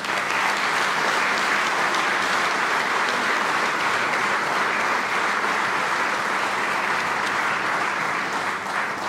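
Audience applauding a band at a commemorative ceremony marking 80 years since the shooting of twelve young men in Vatasha, a dense, steady wash of clapping from a large crowd that continues unbroken.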